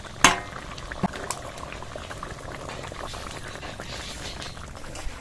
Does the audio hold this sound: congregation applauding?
no